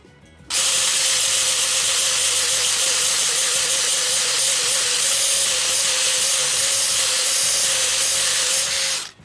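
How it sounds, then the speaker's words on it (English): A grinder works steadily on hardened steel to grind a bevel, producing a loud, continuous abrasive whine with a sustained tone that holds evenly for several seconds before stopping abruptly, with no talking. "I'm going to use the grinder for that"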